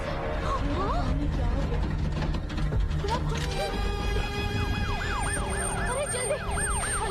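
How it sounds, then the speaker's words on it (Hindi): Ambulance siren wailing in repeated rising-and-falling sweeps, loud and close, entering midway over a dense, noisy street scene with shouting voices throughout. "एम्बुलेंस आ गई।"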